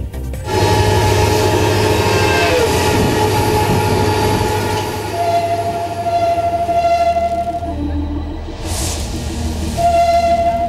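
A modern low-emission train runs through Germany, its loud, steady rumble and rolling wheel noise holding throughout, with sustained tonal squeals and whines rising and falling over the mechanical drone.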